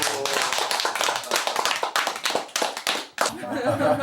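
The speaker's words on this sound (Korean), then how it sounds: "박수." Several people clap their hands together at a family gathering at home, with sharp, close claps in an uneven rhythm that break off briefly and then resume, while voices mingle underneath.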